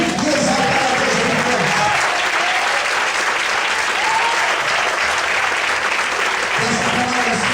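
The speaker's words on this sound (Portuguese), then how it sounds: "Todos podem aplaudir e exaltar a Deus." A church congregation applauds at a worship service, steady dense clapping sustained throughout, loud and close, with faint voices mixed into the crowd noise.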